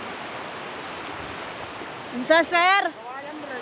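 A strong river current near Catherine Falls rushes in a steady broadband roar throughout, while someone briefly speaks a short question over it near the end.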